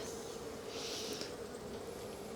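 Honey bees drone in a steady, dense buzz while a nuc is installed into a hive, a continuous close hum with no talking.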